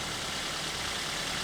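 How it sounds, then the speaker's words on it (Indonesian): A 1300 cc Toyota Avanza with manual transmission idling, giving an even, unbroken engine hum and hiss at steady level with no talk over it. "Di sini mesin sudah dinyalakan. Untuk suara mesinnya normal"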